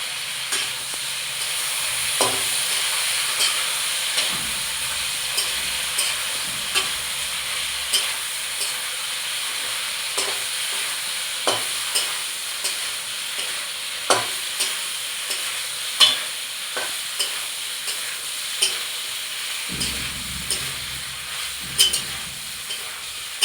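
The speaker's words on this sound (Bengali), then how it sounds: "এবার যে মশলাটা আমি বেটে রেখেছিলাম সেটা এতে ঢেলে দেবো, দিয়ে এবার আমি কষে নেবো ভালো করে।" Ground spice paste stir-fried in oil in a pan for a village-style fish curry with green banana, a continuous low sizzle punctuated by regular sharp scrapes and taps of the spatula against the pan.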